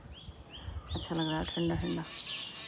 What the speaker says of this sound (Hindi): चिड़ियाँ भी बोल रही हैं, चिड़ियों को भी अच्छा लग रहा है।